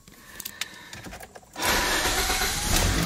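A Toyota car engine cranks and catches at about the halfway point, rising into a loud, steady running roar after some quiet cabin clicks and rustles.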